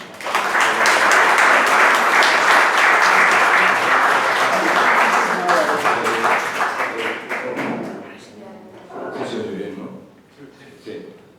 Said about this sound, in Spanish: pido un aplauso para José Vicente